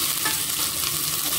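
Garlic frying and sizzling steadily in a pan while being stirred, a dense continuous crackle up close with no talking.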